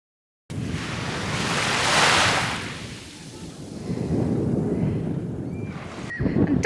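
Surf rolls onto a beach with strong wind buffeting the microphone, a loud whooshing wave swell rising and easing, then steady rushing water and gusts, with no talk.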